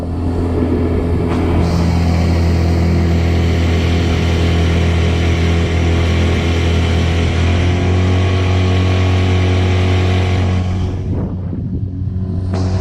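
A skiff's factory outboard motor cruises at partial throttle, about a quarter throttle near 17 to 18 mph. It holds a loud, steady, close droning hum with wind and water rush, easing off near the end.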